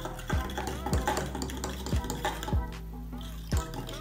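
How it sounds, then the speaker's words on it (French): A spoon stirs water, yeast and a spoonful of sugar for pizza dough in a bowl, clinking against the side about once every second in a steady, close rhythm. "Ici, je mélange le quart de litre d'eau avec la levure et je rajoute une bonne cuillère de sucre."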